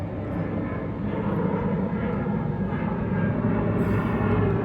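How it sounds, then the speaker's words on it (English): A steady, loud roar of firefighting water tanker aircraft rumbles continuously overhead, a broad low drone that fills the whole stretch without pause. "There's all these water tankers going right over our house right now."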